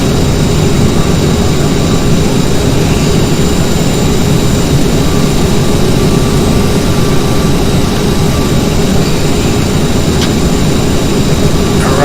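Aerosoft CRJ Professional jet engines in a flight simulator game roar steadily and loudly throughout, a constant broadband whine and rumble with no talking.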